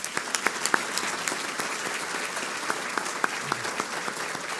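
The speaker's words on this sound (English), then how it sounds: "let's give her a round of applause" An audience applauds a middle school ESL teacher honored at a Teacher of the Year celebration, with steady clapping from a room full of people, a few sharper claps standing out near the front.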